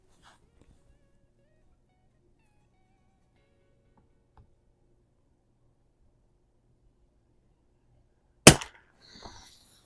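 A single sharp crack from a Mossberg 142a rifle at an indoor range breaks near-silence, followed by a brief metallic clatter.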